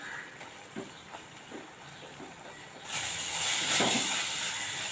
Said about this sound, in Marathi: कांदा आपल्याला चांगला लाल होईपर्यंत भाजून घ्यायचा आहे कच्चा ठेवायचा नाही आहे तो त्यामुळे तेलावर चांगला परतून घ्यायचा आहे